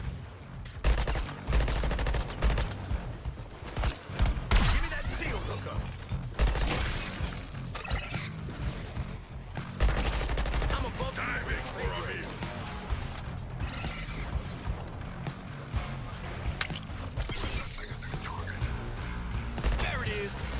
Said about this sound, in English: Shoot that weak spot on the cannon.